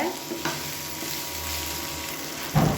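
Radish and tomato chutney fries in a pan with a soft continuous sizzle, broken by scraping stirs and a louder clattering stir near the end.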